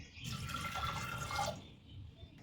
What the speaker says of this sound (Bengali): তো এখানে অল্প জল দিয়ে দিয়েছি